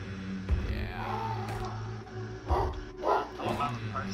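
A dog barking in the room, a few sharp yips and barks in short bursts standing out over a continuous background of game sounds and faint talk.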